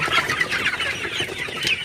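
A flock of Sonali chickens suffering in sweltering heat clucks continuously, many overlapping calls forming a busy, steady chatter close by.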